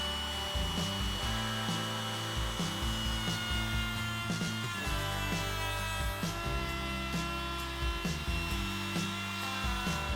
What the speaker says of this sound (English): I'll use a cove bit in the router to put a slight cove in the bottom of the top